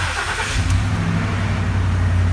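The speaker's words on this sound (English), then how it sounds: "I go ahead and start the truck," A 2012 Ford F-350 pickup with a 6.2-liter V8 starts up. There is a brief cranking burst, then a steady low engine idle that rumbles loudly and close by.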